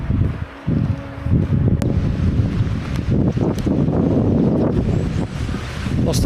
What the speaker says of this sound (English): Today that north wind is absolutely blowing a hoolie down through this glen.